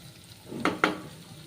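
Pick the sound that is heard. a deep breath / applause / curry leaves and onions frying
curry leaves and onions frying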